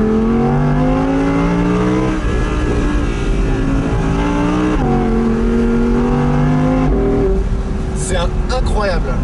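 Audi R8 V10 RWS, the rear-wheel-drive model, with its V10 engine revving loudly and close, its pitch rising and dropping in repeated climbing pulls, with a higher whine near the end and someone speaking over it.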